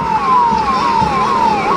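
A Kankavli fire brigade fire engine takes part in a parade with its siren wailing. The siren is loud and close, sweeping down in pitch and jumping back up in a steady repeating cycle, with no talking.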